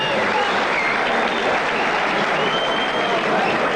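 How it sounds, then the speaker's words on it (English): Boxing fans at a Johnny Tapia versus Efren Chavez fight applauding and cheering, a continuous, fairly loud wash of clapping and crowd noise with a faint voice murmuring underneath. "people are standing up applauding"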